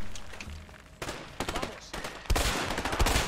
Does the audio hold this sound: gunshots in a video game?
yes